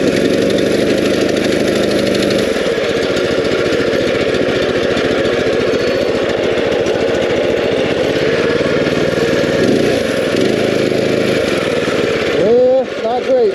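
A mini chopper motorbike with a freshly tightened drive belt runs on a driveway, its engine a loud, steady, close-up drone for the whole stretch, wavering slightly near the end as a voice briefly cuts in.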